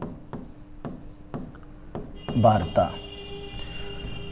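Chalk or pen writing during a Class 10 math lesson, steady rhythmic strokes and taps, with a teacher's speech partly over them.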